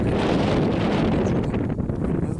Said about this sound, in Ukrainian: Так, вітер.